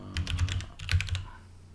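Quick run of key clicks on a computer keyboard while entering an account name in the Windows 10 Mail app, several close, light taps in two short bursts over a low hum.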